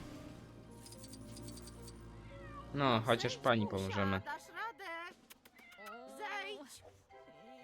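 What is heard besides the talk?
cat meowing in a tree in a Lego video game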